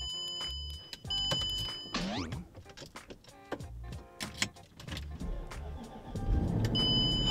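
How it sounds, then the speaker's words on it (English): A car with a weak battery strains to start, with a run of clicking and whirring cranking attempts and brief electronic chimes before the engine finally catches into a rough idle. "My car barely turned on."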